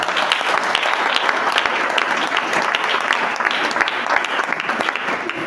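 A church congregation applauds steadily and densely throughout, a sustained wash of many hands clapping at fairly close range, with no talk over it.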